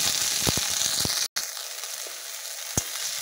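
Yardlong beans and other vegetables fry in hot oil in a pan, giving a steady, close sizzle with a few scraping stirs and one brief break in the sound.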